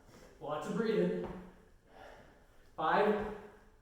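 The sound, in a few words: heavy breathing during interval training workout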